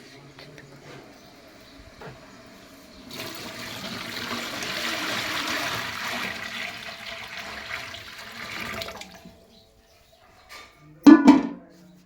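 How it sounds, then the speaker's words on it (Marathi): Water poured from a container onto soaked sabudana (sago) while preparing papad, a steady gushing pour lasting several seconds, followed by a couple of sharp knocks near the end. "तेवढंच डबल पाणी टाकणार आहे"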